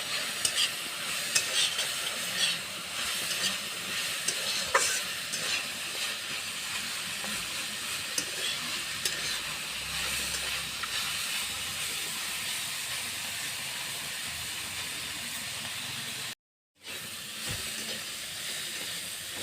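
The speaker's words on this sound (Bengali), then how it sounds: "ডাঙ্গুটিটা অল্প ভাজা ভাজা হলে নামিয়ে নেব।" Danguti sizzles in oil in a pan, a steady frying hiss with occasional crackles and stirring scrapes, heard close up with no speech.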